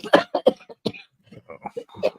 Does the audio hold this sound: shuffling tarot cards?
no